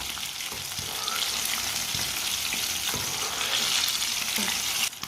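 Fish fries in a pan of hot oil with a steady, dense sizzle and crackle, plus a few soft scraping stir sounds, close and fairly loud, before a brief drop near the end.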